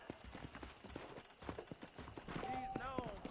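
Horse hooves clip-clopping in the Red Dead Redemption western video game, a steady trotting rhythm of close, distinct hoof strikes running throughout, with a brief voiced call near the end.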